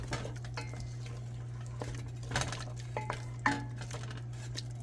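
Sliced bell and jalapeno peppers get mixed in a pot for Southern greens, with soft scrapes and light clinks of a utensil over a steady low hum.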